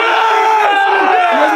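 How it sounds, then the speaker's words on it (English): A small group of young guys cheer and yell together at close range, a loud burst of overlapping whooping voices that holds for a moment and then wavers. "That's why we're cheering right now"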